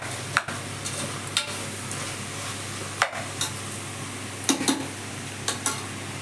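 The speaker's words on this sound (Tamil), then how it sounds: "நல்லா கலந்து விட்டு" Spiced vegetables for veg biryani being stirred in a pan, with a steady low sizzle and a few sharp spoon-against-pan clinks scattered throughout.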